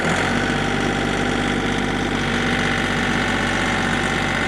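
Kioti CK3510 compact tractor with hydrostatic transmission, diesel engine held at raised RPM; a loud, steady close-up engine drone with a rough, throbbing low rumble, unbroken from start to finish.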